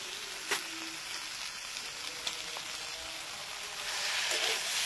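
Chili powder sizzles in frying masala for a sweet-spicy sauce dish, a close, continuous crackling hiss with a few soft clicks and a swell toward the end.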